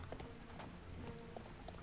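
Horse hooves clip-clop in quick, steady rhythm in Star Stable, close and fairly faint, with no talk over them.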